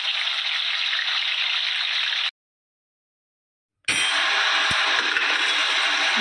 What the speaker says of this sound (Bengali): বাকি পটলগুলোকে আমরা ঠিক একইভাবে ভেজে তুলব